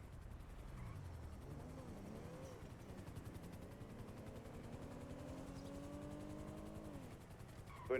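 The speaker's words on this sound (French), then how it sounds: "Il y a un hélico là." A helicopter in a video game drones steadily with a rising, whining engine pitch. Faint gunfire and vehicle noise sit underneath, and no voices are heard over it.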